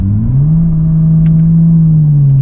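A BMW M135i in sport mode holds a loud, deep, resonant engine drone that rises briefly and then stays steady, heard from inside the car with no talking.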